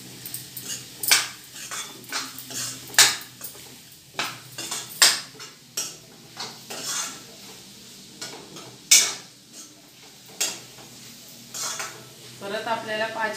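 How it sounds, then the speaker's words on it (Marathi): A ghevda, brinjal and potato curry with a little coriander is stirred in a metal pot, repeated scraping clinks and scrapes over a faint sizzle, close and fairly loud, with no talking. "छान आपल्याला मिक्स करून घ्यायची भाजी आपली."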